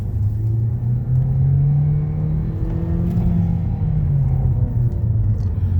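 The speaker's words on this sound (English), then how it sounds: "But let's accelerate one more time." A Ford Focus with a suspected clutch actuator or clutch fork fault accelerates gently on a test drive, its engine a steady low rumble and hum from inside the cabin, with the drone rising slightly and holding throughout.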